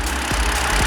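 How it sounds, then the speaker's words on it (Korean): Gasoline engine of a BMW 528i idling steadily at close range, a continuous low rumble with faint rhythmic pulses and no talk over it. "엔진 소리도 조용하고"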